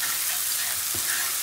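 Peppers fry in a pan with a dense, even hiss, loud and close, with a brief stirring scrape near the middle and no voices.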